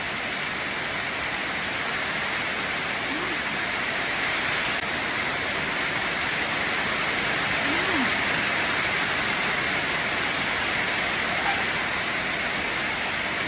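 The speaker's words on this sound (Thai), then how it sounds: "ฝนแรงขนาดค่ะ" Heavy rain pours down in front of a house, a dense, steady roaring hiss that stays loud and unbroken throughout, with only a couple of faint chirps showing through.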